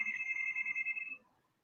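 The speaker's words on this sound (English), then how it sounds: "I have somebody's ringing my bell." Electronic doorbell chime at a home, a single bright sustained ring lasting just over a second before fading to silence.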